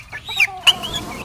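A farm chicken clucks close by in a few short, rising calls, with brief pauses between the bursts and a quiet yard in the background.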